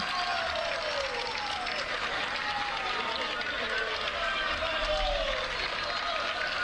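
A large roadside crowd cheers and claps steadily at a cycling race intermediate sprint on an uphill approach, a continuous loud wash of noise with a commentator talking over it.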